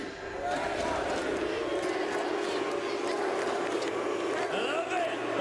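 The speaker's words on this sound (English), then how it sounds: "You want to start an NRG chant right now?" A large crowd at a Paris Valorant watch party chants for NRG, a loud, steady, rhythmic roar of many voices that fills the room.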